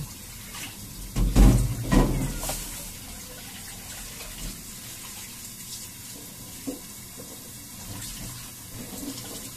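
Tap water runs over vegetables being washed in a sink, with a louder burst of splashing early on and then a softer steady trickle with small clatters, close by and without talk.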